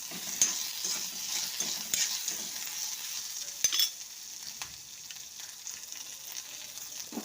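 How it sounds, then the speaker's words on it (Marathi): Finely chopped onion sautéing in a pan for rava dosa chutney, a steady soft sizzle with occasional sharp scrapes and clicks of a spatula stirring, close and fairly quiet. "आणि बारीक कट केलेला कांदा साधारण आकाराचा एक छान परतून घ्यायचं"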